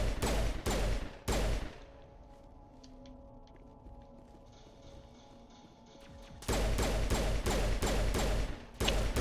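Rapid bursts of gunfire shooting at enemies in Mass Effect Legendary Edition, loud sharp volleys at the start and end with a quieter mechanical lull between, no talk.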